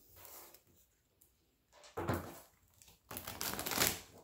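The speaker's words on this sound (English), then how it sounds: "so let's do a shuffle" Cards riffle and shuffle in two quick bursts of papery flutter, separated by brief quiet pauses.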